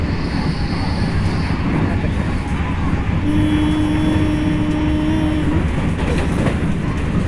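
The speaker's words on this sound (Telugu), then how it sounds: "వచ్చింది, ట్రైన్ సౌండ్ వచ్చింది." A train passes on an early morning rail journey, a steady loud rumble with a sustained horn-like tone rising midway, and faint voices underneath.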